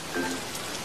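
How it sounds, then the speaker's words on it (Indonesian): Heavy rain in the Sakura School Simulator game, a steady dense hiss of falling water that fills the whole short stretch evenly, with no voices over it. "hujan gak berhenti-berhenti dari tadi"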